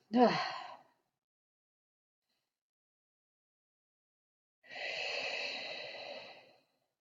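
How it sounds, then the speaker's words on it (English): A person takes a short, sharp breath in, then after a long silence lets out a drawn-out breathy exhale like the end of a yawn, quiet and close. "for some reason, the poles are making me yawn"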